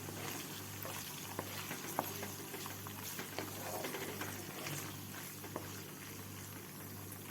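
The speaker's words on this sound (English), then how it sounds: "now I'm adding in the prawns. I'm going to fry in the prawns" Prawns frying in a pan for chili-garlic noodles give a steady, moderately loud sizzle and bubbling hiss throughout, broken by a few small pops and clicks.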